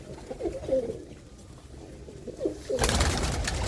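Desi pigeons coo nearby in two short bursts, soft and rolling, before a loud rustling burst takes over at the end.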